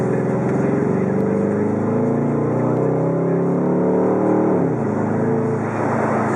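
A 2006 Dodge Charger SRT8 with an aftermarket exhaust accelerates at half throttle, its engine note climbing steadily and loudly from the cabin, then easing off toward the end.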